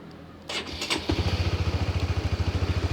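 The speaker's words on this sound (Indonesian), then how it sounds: "Nah, ketika motor sudah dihidupkan, coba kita starter ya." A manual-clutch motorcycle fires up on its electric starter with a short whirring crank, then settles into a steady, close, rhythmic idle thump for the remaining two seconds.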